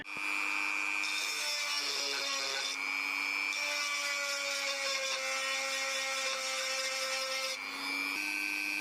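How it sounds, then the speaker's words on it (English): A Dremel rotary tool grinds at a stuck bearing and flange during an electric unicycle teardown, a continuous high-pitched whine with steady abrasive rasping that shifts slightly in pitch as the load changes, close and loud throughout. "You can have a look at the Dremel in there, attempting to Dremel it out a bit"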